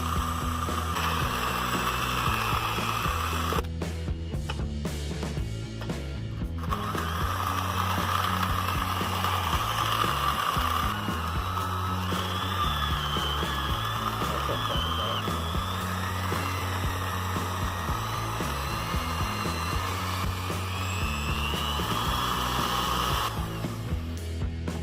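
An electric mixer creams butter with sugars and lemon zest for lemon sugar cookies, giving a steady, close whirring motor drone that runs without a break and with no voices.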